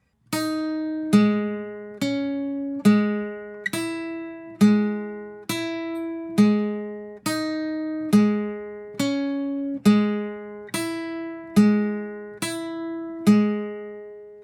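An electric guitar plays the repeating part from a song, a steady pattern of picked notes struck about every second and ringing out alone over roughly fourteen seconds.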